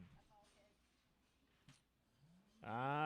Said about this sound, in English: Nice cattle there.